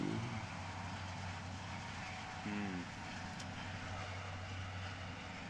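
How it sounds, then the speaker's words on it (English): A train passes in the distance as a steady, faint low rumble and drone, continuous throughout with no voices. "There goes that train again, and you probably can hear it."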